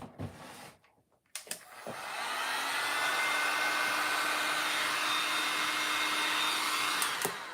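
A hair dryer blows on craft pieces for a paper lantern, starting after a few knocks and then running as a loud, steady whir close by.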